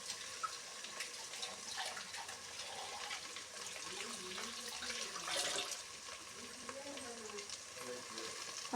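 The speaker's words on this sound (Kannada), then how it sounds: "ಮಿಕ್ಸಿ ಜಾರಿಗೆ ಸ್ವಲ್ಪ ನೀರು ಹಾಕಬೇಕು." Water is poured into a mixer-grinder jar in a home kitchen while sambar is being cooked, giving a steady splashing, gurgling rush that runs the whole time at moderate volume.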